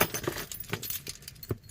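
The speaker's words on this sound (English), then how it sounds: "Keys, Trusty Keys." A bunch of keys jangles close by in a run of bright, irregular metallic clinks and rattles, fairly quiet, with no talk.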